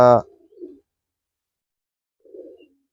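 A ringed pigeon of a prized breed gives two soft, low coos a couple of seconds apart, close and faint in an otherwise quiet room, after a brief voice at the start.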